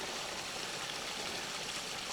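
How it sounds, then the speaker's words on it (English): Steady broadband rush of flowing creek water at Branxholm, close by, about four feet from the creek, continuous, with no voices over it. "Only about 4 foot away from the creek at the moment"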